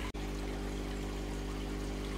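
Water from a hose pipe pours steadily into a koi pond with a constant, even rush, close by and unbroken, with no voices.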